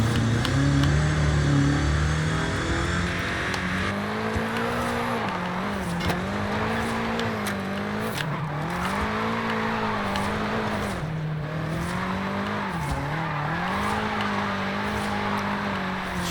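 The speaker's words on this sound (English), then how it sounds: "plenty of power to pretty much drift this" A 2020 BMW M8 Competition coupe drifting, its engine droning and rising in repeated revs while the tires squeal steadily underneath, loud and close throughout with no break.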